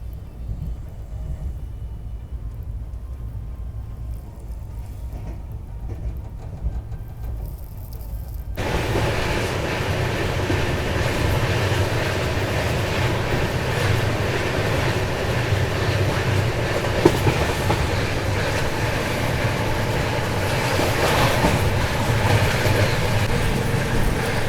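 Duronto Express train on its nonstop Secunderabad to Guntakal run, a steady close rumble of wheels and carriage noise that grows noticeably louder and fuller after the first few seconds, then holds constant with faint rattles.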